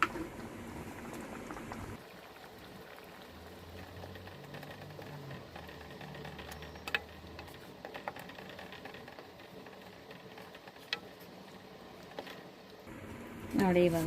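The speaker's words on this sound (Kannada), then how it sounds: "ಈ ಕುದಿ ಬರ್ತಾ ಇದೆ, ಇನ್ನೊಂದು ಸ್ವಲ್ಪ ಚೆನ್ನಾಗಿ ಕುದಿಬೇಕು" Aloo sagu, a potato curry, boiling in a pot on high heat, a soft steady bubbling and faint patter running quietly for the whole stretch, with a brief clatter at the start and end.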